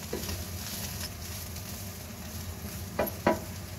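Vegetable fried rice being stir-fried in a pan, a low steady sizzle running throughout, with a couple of sharp scraping clinks from the utensil near the end.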